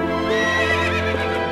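A horse in The Legend of Zelda: Twilight Princess HD video game whinnies loudly in a long, wavering neigh, close and clear, over a steady low hum.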